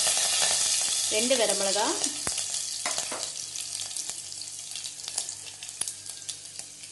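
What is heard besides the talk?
fennel, curry leaves and red chillies spluttering in hot oil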